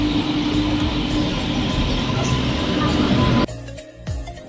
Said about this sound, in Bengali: বন্ধুরা ট্রেন তো চলে এলো,